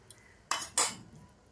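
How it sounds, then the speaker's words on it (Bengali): A lid set onto a cooking pot of soybean, cauliflower and potato curry: a faint tap, then two quick, close metallic clanks about a third of a second apart, ringing briefly. "এইবারে ঢাকা চাপা দিয়ে দেব"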